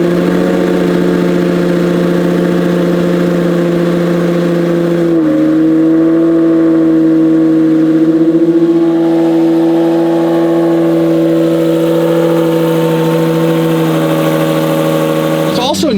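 A Lamborghini Murcielago V12 idles steadily after a cold start, a loud close drone that steps up in pitch briefly before settling, with a short rise at the end.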